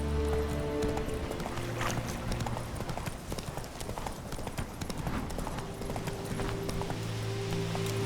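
Roach, the horse in The Witcher 3, gallops in a steady rapid clip-clop of hooves on ground, loud and continuous, with a low game music bed beneath.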